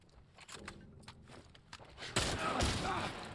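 Assault rifle gunfire in The Last of Us Part 1, a sudden loud burst of rapid shots that breaks in near the end after quieter footsteps and movement.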